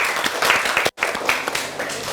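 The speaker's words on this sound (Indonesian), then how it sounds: "Tepuk tangan dulu buat diri masing-masing." Indonesian school class clapping together in a classroom, a dense burst of hand claps from many students, close and lively, with a short break near the middle and a few voices mixed in.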